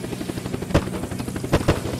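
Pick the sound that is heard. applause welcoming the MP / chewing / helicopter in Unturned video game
helicopter in Unturned video game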